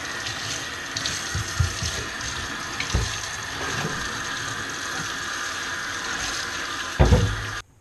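Running water rinses a dirty object, a constant close hiss and splash with a few knocks and clatters of the item being handled, ending in a louder burst before stopping abruptly.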